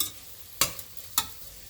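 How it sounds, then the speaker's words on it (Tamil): Soft background hiss of vegetables with salt and turmeric sautéing in a pan for veg kurma, broken by two sharp scraping clicks of a utensil stirring about half a second apart. "இது நல்லா வதங்கிட்டே இருக்கும்."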